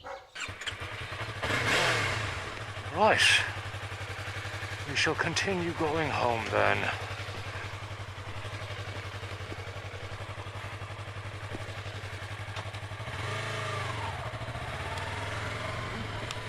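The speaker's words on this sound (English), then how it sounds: "And that exhaust still sounds terrible." A motorcycle with a rough, bad-sounding exhaust rumbles in a steady low drone while being ridden, with a couple of brief surges and wind noise; someone speaks briefly over the engine.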